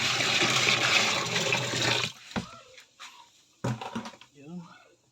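Water gushes steadily into a washing machine being checked for leaks, a loud rushing pour that cuts off abruptly, then someone speaks over a few scattered clunks.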